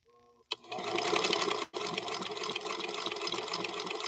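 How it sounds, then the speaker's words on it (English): A centennial Singer Featherweight sewing machine starts with a click and runs slowly, a soft, even whirring rhythm of stitching that pauses briefly before carrying on close and steady. "There's nothing like the sound of a featherweight."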